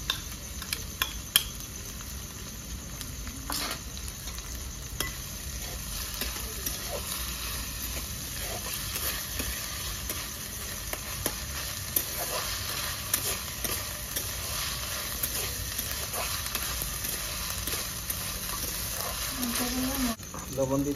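Ginger, garlic and green chilli fry in a pan, a steady close sizzle with stirring scrapes running throughout, continuous and fairly loud.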